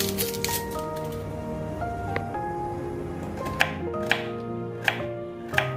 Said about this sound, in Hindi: दो प्याज कट कर लूंगी। प्याज भी हमें लंबे लंबे ही कट करने हैं।